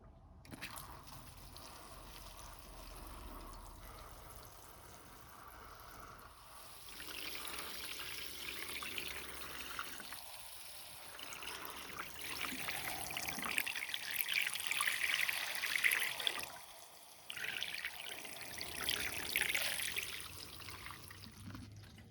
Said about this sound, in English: get some water on these